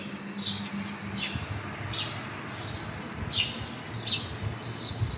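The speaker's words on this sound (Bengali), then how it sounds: "শুনতে পাচ্ছেন পাখির আওয়াজ" At dawn a bird repeats short, bright chirps about every second, seven or so in a row, over a low, steady background hum; no voices.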